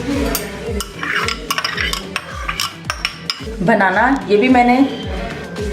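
Sliced apples being stirred into yogurt in a bowl, giving soft repeated scraping and clinking of a spoon against the bowl in a steady rhythm, with someone talking over it throughout.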